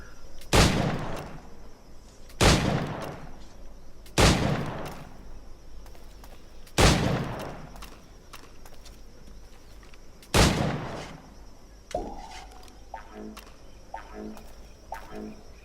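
Gunshots fired at targets in the video game Assassin's Creed IV Black Flag: five loud, sharp cracks spaced about two seconds apart, followed by a few quieter clicks and tones from the game, with no talking.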